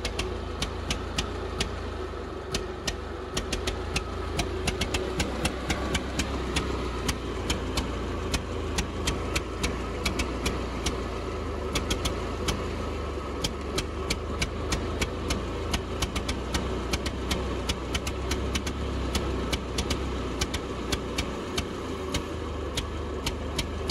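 An old grey Ferguson tractor engine runs rough and steady, a dense low chugging with irregular knocks suggesting it firing on only two cylinders at times, close and continuous with no talk.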